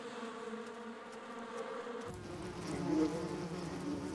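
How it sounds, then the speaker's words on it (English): Bees fly down a long tunnel lined with black stripes toward sugar water, a close, continuous buzzing hum that shifts in pitch and swells partway through, under a soft backdrop. "They persuaded bees to fly down a long tunnel, lined with black stripes,"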